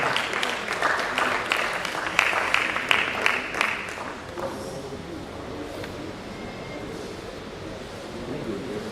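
Brief applause from a conference audience at a medical college scientific plenary session, a few seconds of scattered claps that fade out and leave room noise.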